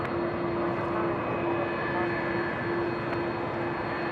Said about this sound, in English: before our Air Canada friends coming in to land